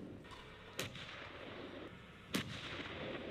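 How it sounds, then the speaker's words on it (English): Two distant booms from an M1 Abrams tank's 120mm smoothbore cannon, spaced about a second and a half apart, faint against a steady rumbling background. "120mm smoothbore cannon that can turn a man to mist from up to 2 miles away"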